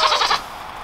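A single short goat bleat from a backyard pen with covered feeders, loud and near, lasting under half a second and fading into a quiet outdoor background.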